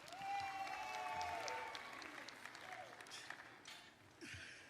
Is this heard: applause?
yes